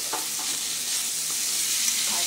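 Potato pieces and pointed gourd seeds fry in oil while being stirred, a steady close hiss with a few soft scraping touches of the spoon, no voices.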